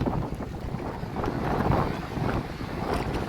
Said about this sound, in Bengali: শরীরে ঠান্ডা বাতাস লাগছে।